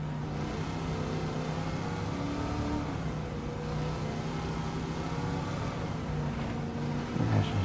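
A Pontiac Firebird engine in a racing video game lapping the Nurburgring, a steady loud drone with layered harmonic tones, holding pitch with slight shifts and rising briefly near the end.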